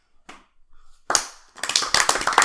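An audience begins clapping, scattered at first and then swelling into steady, dense applause from many hands in a room, with no voices heard.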